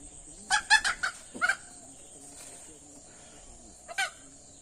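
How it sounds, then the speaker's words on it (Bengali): A farmyard rooster on a village morning gives a few close, sharp clucking calls in a quick cluster, then falls quiet before one last brief call, with a steady insect-like whine in the background. "এরকম মোরগ আমার বাড়িতে আছে।"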